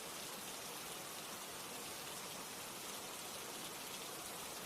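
Steady rain falling on surfaces, a dense, even hiss filling the whole stretch with no gaps or other sounds.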